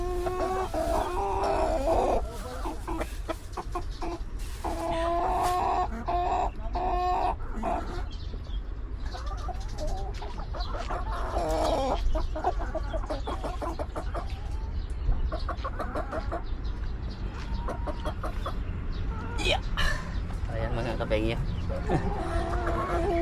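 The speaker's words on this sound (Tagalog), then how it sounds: "yung mga manok natin nag-aantay sila ng kakainin nila" A flock of chickens clucks and cackles continuously close by, with scattered squawks over a steady background, and a person talks at times.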